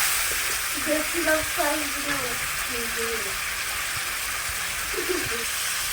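Mango with a spice mix sizzling in a pan while being stirred, a steady frying hiss under quiet talk.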